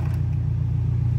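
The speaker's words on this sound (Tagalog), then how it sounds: "Naririnig ko yung kotse mo from the elevator." A car engine idles or runs in a garage, heard from a distance as a steady low rumble with no talk.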